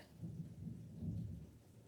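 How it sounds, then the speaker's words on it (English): Thunder rumbling through a storm with steady rain, a continuous low roll that swells twice over two seconds, moderately loud and without voices. "it is thundering"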